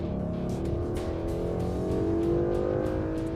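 A 2011 Ford Mustang V8 revs hard at high RPM around 7,000, a loud, steady, rising engine roar heard alone with no talking.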